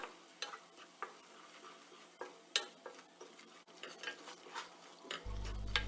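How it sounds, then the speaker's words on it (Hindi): Sifted gram flour with green cardamom pods being stirred and roasted in olive oil over a low flame, with a spatula scraping and clicking against the pan in irregular strokes and a soft sizzle underneath, close and fairly quiet. "अब हम इसे भूनना स्टार्ट करेंगे।"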